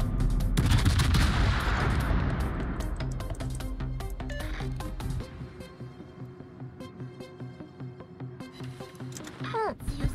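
Rapid sustained gunfire aimed at the player in a naval battle game featuring the ship ZAO, a dense loud barrage that thins out midway, with a voice talking over it.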